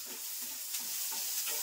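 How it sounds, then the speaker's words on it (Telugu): Corn vadas fry in hot oil, giving a steady, close hiss and crackle of sizzling that runs unbroken throughout, with no talk. "మెల్లగా ఫ్రెండ్స్ మా హాని ఫ్రై చేస్తుంది."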